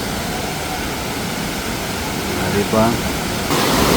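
Maranum Falls in Pangasinan pours in a constant loud, broadband roar of falling water close by, with a brief voice speaking over it near the end.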